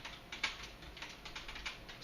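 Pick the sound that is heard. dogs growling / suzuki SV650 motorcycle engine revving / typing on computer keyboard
typing on computer keyboard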